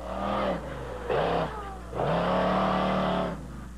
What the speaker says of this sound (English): Here they come! The biggest, most powerful monster trucks in the world!